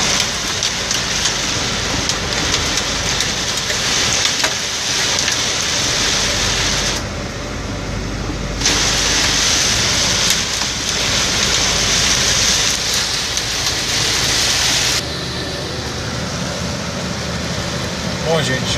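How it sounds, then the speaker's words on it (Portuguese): Heavy hail and rain pound a truck driving through a storm on a São Paulo highway, a dense, loud drumming with engine hum beneath, easing briefly twice before resuming. "em São Paulo, chuva de granizo. E muito forte."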